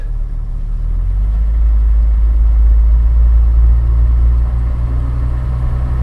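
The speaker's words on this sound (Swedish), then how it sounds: "när vi smög iväg så här så hörde man ett litet tjutande ljud från transmissionen" An old Jaguar XJ Series 1 sedan pulls away slowly, its low engine rumble swelling gently and steadying as the car moves off, with only a faint transmission whine under the drone; no talking.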